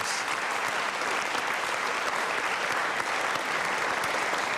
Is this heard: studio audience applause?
yes